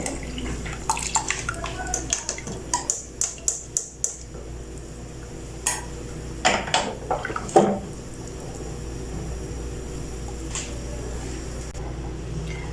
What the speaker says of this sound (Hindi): जो मैंने इमली का पानी तैयार किया वो भी ऐड कर दूँगी